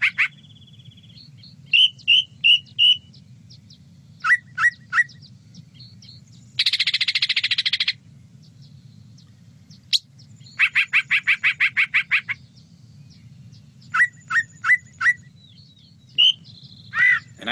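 Bird calls ring out in bursts, repeated sharp chirping notes and a harsher buzzy call, clear and fairly close over a low steady background hum.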